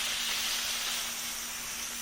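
A handheld steamer works slowly over a mattress being treated for bed bugs, giving a steady, bright hiss with a faint low hum underneath, close and constant throughout.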